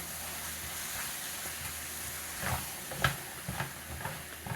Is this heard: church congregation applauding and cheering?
no